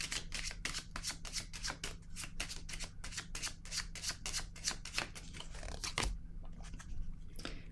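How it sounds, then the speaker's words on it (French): Tarot cards are handled on a table in a long run of quick, evenly spaced papery flicks and snaps, close and fairly loud, ending in a few softer taps as a card is set down. "Je vais déposer une carte sur la cour."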